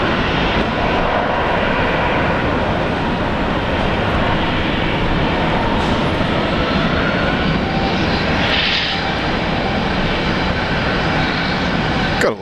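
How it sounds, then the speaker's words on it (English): An Airbus A350 airliner landing at Brisbane International Airport, its engines giving a loud, steady, broadband roar that holds for the whole stretch without letup. "Gotta love these 350s."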